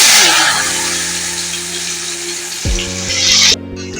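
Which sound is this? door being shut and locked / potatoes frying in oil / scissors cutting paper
potatoes frying in oil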